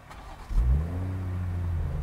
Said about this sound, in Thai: ฟังเสียงเครื่องยนต์ B58 ใน Z Fold ครับ